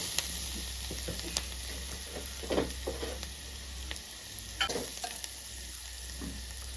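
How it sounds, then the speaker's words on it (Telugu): Buttermilk rasam being stirred in a pot, with a spoon scraping and clinking in soft, irregular strokes against a steady low hum, a few louder knocks standing out. "ఇప్పుడు బాగా కలుపుకుందామండి"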